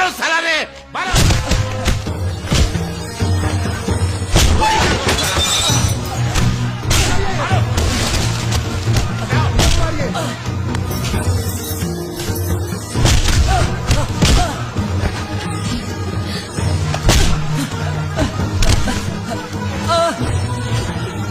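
Repeated heavy thuds and smacks as several people beat a man in a Hindi movie fight scene, landing over loud, dense dramatic music with shouting voices throughout.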